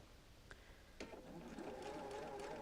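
Sewing machine stitching pieces of a double wedding ring quilt with a scant quarter-inch seam, running over pins; a faint start followed by a steady, continuous whir at low volume.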